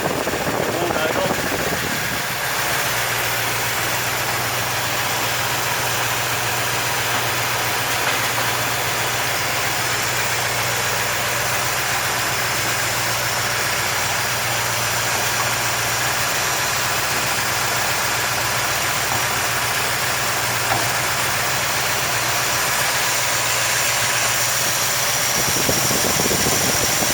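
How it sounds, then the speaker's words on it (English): A 400 engine idles roughly and unevenly after a popped-off vacuum cap, a steady low rumble close by that carries on for the whole stretch with a slight wheezing hiss over it. "when that happens, it won't idle."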